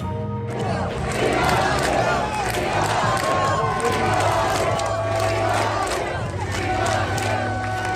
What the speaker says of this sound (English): there's that massive crowd in support of President Trump there in Florida, Doral